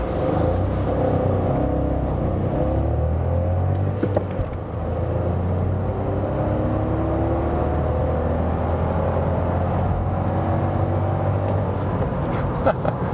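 A Skoda Fabia pulls away from a traffic light, its engine a steady low rumble with rising tones as it accelerates through the gears, heard from inside the car with faint background noise.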